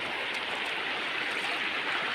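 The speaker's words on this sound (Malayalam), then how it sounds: "ഇതിലങ്ങനെ ഒരു പുഴ ഉണ്ട്" A river flows steadily through farmland, its broad continuous rushing close and loud with no talk over it.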